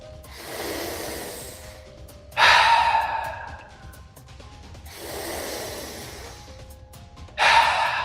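Deep, forceful breathwork breaths from a training session for mountain athletes: slow, hissing inhales alternate with sharp, loud exhales, about two full cycles heard up close with no talking.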